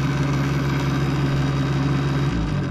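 A Bafang BBSHD mid-drive motor on an e-bike runs under throttle with a steady, even electric hum and whine. The tone shifts and drops slightly just before the end. No one speaks over it.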